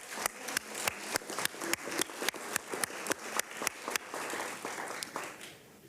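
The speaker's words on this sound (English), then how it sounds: "That deserves a round of applause." Applause at a county commissioners meeting, heard as a regular series of sharp, evenly spaced claps that soon blend into looser scattered clapping and then die away.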